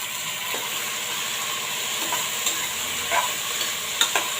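Tomatoes, beans, carrots and green chilli sauté together for vegetable biryani, a steady close sizzle with occasional sharp scrapes and taps of the stirring spoon.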